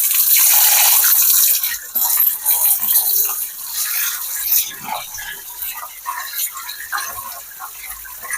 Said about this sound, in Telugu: మునగాకంతా కూడా శుభ్రంగా కడుగుదామండి.